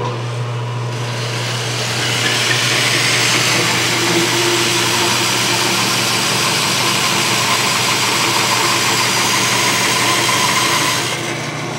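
Bandsaw cutting through a thick block of wood clamped front and back, a loud steady whine and rasp that swells after a couple of seconds and holds evenly, then eases off near the end.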